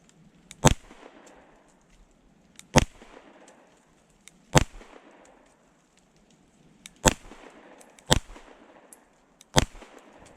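Six sharp pistol shots from a Kimber 2K11 Pro fired with iron sights, spaced unevenly about two seconds apart, each a loud crack followed by a short ringing tail.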